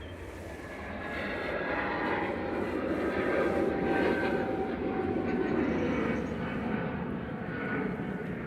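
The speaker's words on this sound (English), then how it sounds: "Lufthansa departing back to Frankfurt with flight 949." A Lufthansa Airbus A320neo in classic livery departing Manchester Airport for Frankfurt, a broad continuous jet engine roar swelling to a peak midway and easing slightly, heard at a distance outdoors.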